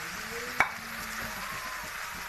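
A bitter gourd curry is stirred in a pan on the stove, giving a soft steady sizzle with one sharp clack of the spoon against the pan early on, no voices.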